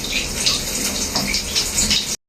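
Water runs steadily from a shower head fed by a newly installed water heater, a constant close hiss and splash that lasts about two seconds and then stops abruptly.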